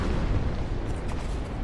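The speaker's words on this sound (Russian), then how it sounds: "Мне бесит, что постоянно взрывается вулкан." Volcano erupting in the From Dust video game, a dense continuous rumbling roar with crackling bursts that stays loud and steady throughout the short stretch, with no voices.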